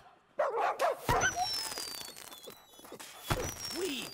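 Dogs barking in the video game Sea of Thieves, several sharp close barks and yips in quick bursts, with a whining tone and a thin high whistle-like melody running behind.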